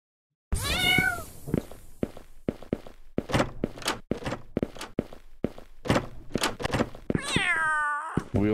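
A cat in the video game Feline Shenanigans meows loudly at the start and again near the end, with a steady run of soft padding footsteps and thumps between the calls.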